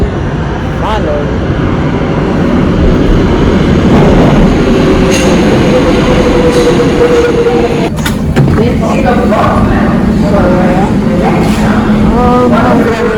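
A train pulling into a station, loud and near, with rumbling wheels, rattling cars and squealing brakes building over several seconds.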